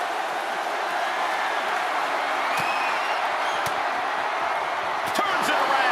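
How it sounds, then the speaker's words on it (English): A dense, steady roar of an arena crowd in WWE 2K25 cheers throughout a wrestling match, loud and continuous, with a few sharp slaps and impacts cutting through near the end. "The WWE Universe is showing their appreciation for the action they're seeing."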